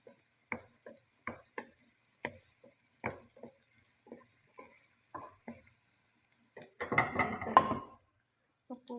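Liver fry being stirred in a pan with turmeric, spatula scrapes and taps repeating in short bursts over a low sizzle, with a louder flurry of scraping near the end.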